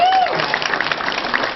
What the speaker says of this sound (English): So let's just give that a round of applause.